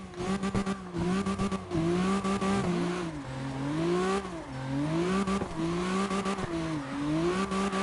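Car driving in the racing game CarX, an engine revving up and down in continuous pitch sweeps with brief gear shifts and tire noise, loud and close throughout.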